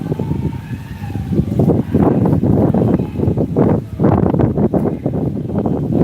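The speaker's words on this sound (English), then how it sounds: "It's a little windy out here." Gusting wind buffets a microphone at a riverside beach, with loud, uneven low rumbling bursts that swell and drop throughout.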